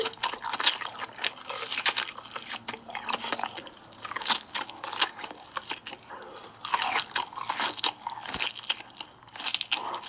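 A mukbanger crunches and chews Hot Cheetos close to the microphone, dense irregular bites and wet mouth sounds repeating throughout without a pause.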